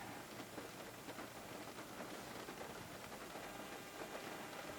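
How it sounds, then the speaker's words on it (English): Steady rain falling on a car windshield during a drive in Wisconsin, a dense even hiss of drops throughout, fairly quiet and without talk. "Yeah, just rain,"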